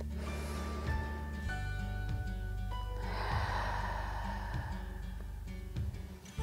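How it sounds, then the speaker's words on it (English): During a gentle yoga stretch, one long, deep breath is drawn in and released, soft and close, over sustained calm music. "Let's take one more big breath."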